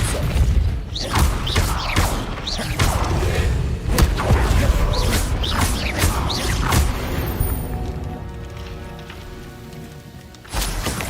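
Explosive spell impacts from Bombarda and Confringo in the Hogwarts Legacy video game hit in a string of loud, crackling blasts over a dense, rumbling wash of debris and effects, fading toward the end.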